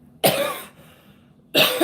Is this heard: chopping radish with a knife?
no